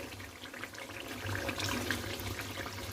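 Water pours steadily into a pan of Kashmiri dum aloo gravy, a continuous splashing, trickling wash that swells slightly midway and carries on without speech.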